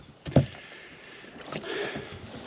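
A kayak paddles on the Trave river, with two soft paddle strokes and splashes about a second apart over a low, airy outdoor background.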